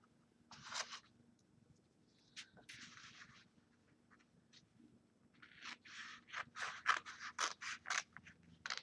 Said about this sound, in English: we're just going to cut from the outside edge to to the crease on each end